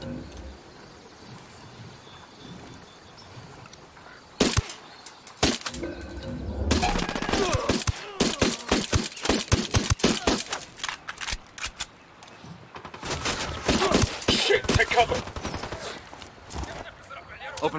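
Bursts of automatic gunfire in the video game Ghost Recon Wildlands, rapid volleys and single shots crackling over several seconds amid ambient game sounds and occasional radio-style voices.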